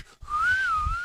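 A man whistles a single sustained, wavering tone that glides gently up and down for about a second, clear and alone after a brief muffled noise, heard through a played video clip.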